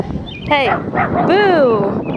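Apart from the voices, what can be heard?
dog barking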